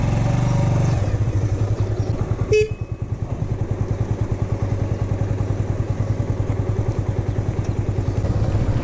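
Motorcycle engine running steadily throughout a solo long-distance ride from Tirthan Valley to Delhi on wet roads after overnight rain, with a close, continuous rhythmic thrum, and a brief sharp horn-like clatter about a third of the way in.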